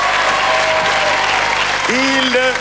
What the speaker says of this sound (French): Applaudissements pour Jérôme, s'il vous plaît.